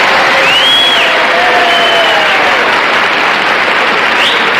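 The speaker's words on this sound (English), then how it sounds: "That applause when he comes in is amazing." Studio audience applause greets a character's entrance on The Honeymooners, a dense, loud wash of clapping that holds steady for the whole stretch with faint cheering mixed in.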